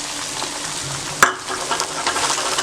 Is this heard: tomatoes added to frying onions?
yes